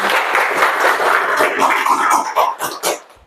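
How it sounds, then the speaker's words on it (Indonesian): University students in a classroom applaud, with dense, close clapping that carries on steadily before thinning into a few scattered claps and trailing off. "boleh tepuk tangan dulu teman"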